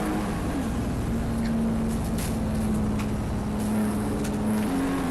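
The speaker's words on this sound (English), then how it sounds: "Sounds like he's trying to blow the engine on the Miata." Mazda Miata engine revving with sharp throttle blips, a steady drone rising and falling as the revs drop quickly, heard continuously at close range with no talk.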